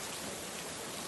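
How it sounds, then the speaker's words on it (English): Light drizzly rain falls outside as a faint, steady, even patter and hiss with no other sounds. "right now, we have some drizzly rain outside"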